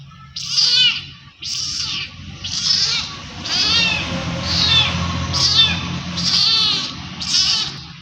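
A newly adopted kitten meows repeatedly at home, about seven loud, close cries in a steady rhythm over a low background hum.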